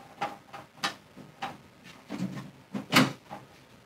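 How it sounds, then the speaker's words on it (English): The front door of a Sinfonia CS2 dye-sub photo printer being shut, a run of short plastic clicks and knocks in an irregular rhythm, close and clear with no talking. "once you get it loaded and you close the front door"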